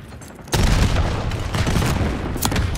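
A frag grenade goes off in Call of Duty Black Ops 6 with a sudden loud, deep boom after a quieter moment, followed by dense rumbling debris and scattered gunfire pops that carry on to the end.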